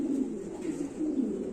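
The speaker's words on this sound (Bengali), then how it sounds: "এগুলো হচ্ছে সব কিং কবুতর।" A flock of king pigeons in a loft coo steadily, a soft, low, throaty burbling that rolls on without pause, close and moderately loud.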